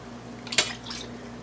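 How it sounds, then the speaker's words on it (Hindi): Cold water splashes into a bowl of potatoes during cooking: one brief, bright pour and splash against a quiet hum, followed by a faint trickle as it settles. "दोबारा इसके अंदर कोल्ड वाटर डालेंगे।"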